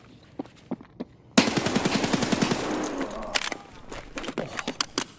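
Escape From Tarkov gunfire with M993 rounds: a few quiet footsteps, then a sudden loud burst of rapid automatic fire, followed by a series of sharp, scattered shots and returning fire at varying distances.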